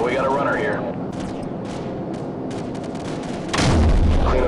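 Gunfire from above in Call of Duty 4, the 'Death from above' gunship mission: dull distant booms and rumbling fire under radio chatter, ending in a louder, nearer blast.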